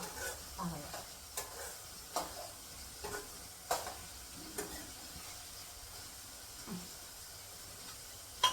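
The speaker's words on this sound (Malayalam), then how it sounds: "എല്ലാം കൂടെ നന്നായിട്ട് വഴറ്റിക്കൊണ്ടിരിക്കുവാണേ" Greens being sautéed for a spinach thoran, with a steady low sizzle and repeated sharp scrapes of a spoon against the pan at a regular pace.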